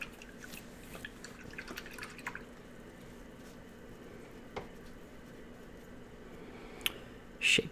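Paintbrush rinsed in a water pot while painting miniatures with Citadel contrast paints, giving faint, sparse drips and small splashes over a quiet room, with a sharper clatter near the end.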